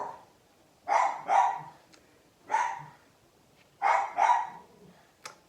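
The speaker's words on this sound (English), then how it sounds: "He's heard another dog or seen another dog" A dog barks in short bursts, a quick double bark, then a single one, then another double, moderately loud and a little distant in an otherwise quiet setting.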